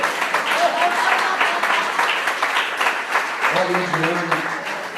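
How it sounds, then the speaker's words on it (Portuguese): Church congregation giving a round of applause, steady dense clapping filling the whole five seconds at moderate level, with a voice speaking over the final part. "Uma salva de palmas para ele, um grande apoio."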